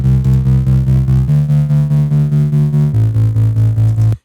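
A big synth bass in a future bass track pulses in steady, rapid repeated notes, shifting pitch twice across the phrase, loud, thick and sustained before cutting off abruptly.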